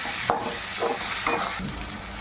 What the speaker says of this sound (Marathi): 1 चमचा आपण हळद टाकायची आहे। अर्धा मिनिट तेलामध्ये परतून घ्यायचे आहे।